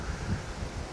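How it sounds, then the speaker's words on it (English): Wind gusting across an open golf course, a steady low rumbling buffet against the microphone, fairly quiet and continuous with no voices. "It's pretty windy today."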